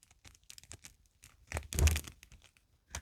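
Close, crisp paper crinkling and rustling in short bursts, with one louder crumpling swell near the middle, no voices.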